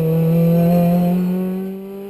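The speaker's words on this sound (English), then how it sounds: "here I am taking the Renault Clio Cup for a spin around the south part of the Sepang Formula One circuit" A Renault Clio Cup race car on the Sepang Formula One circuit gives a loud, steady engine drone, its tone sliding slightly upward over about two seconds before easing off.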